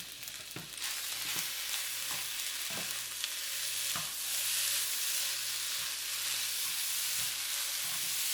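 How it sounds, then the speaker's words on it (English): Beef and egg fried rice stirred in a hot pan, a continuous close sizzle broken by regular scraping strokes and light spatula clicks roughly every half second, no voices. "Stir everything all together."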